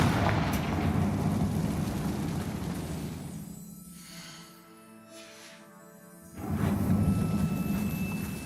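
A Confringo spell explosion in Hogwarts Legacy gives a loud, rumbling blast that decays into a quieter, tonal lull, then a second heavy burst erupts near the end.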